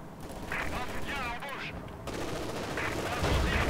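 Rattling gunfire and distant battle noise fill a Company of Heroes 2 assault on Voronezh, a steady stream of shots under someone speaking French.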